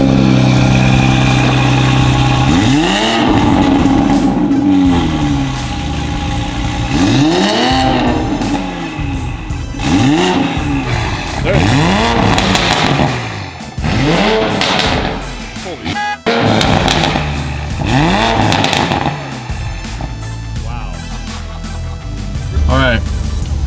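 A 2020 Toyota Supra with a new downpipe exhaust revs hard several times, each rise and fall loud and close with crackling between, while people talk over it.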